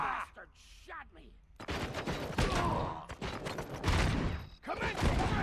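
Bursts of rapid gunfire ring out in the Robocop: Rogue City video game, with repeated loud volleys and clattering shots while someone shouts over the fight.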